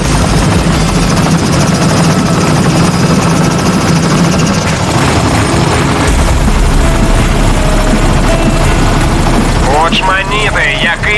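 Helicopter lifting off nearby, its rotor and engine roaring loud and steady throughout, with a voice speaking over it and music playing underneath.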